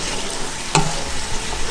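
Water with salt, paprika and pepper is stirred in a pot, producing a steady broadband wash of swirling liquid with one brief clink near the middle, all fairly loud and close.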